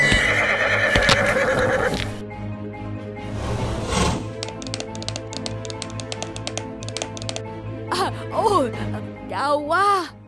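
An old horse in an animated Vietnamese folk-tale cartoon, struggling up a steep slope against the wind: steady clip-clopping hooves under music, then several loud, wavering neighs near the end.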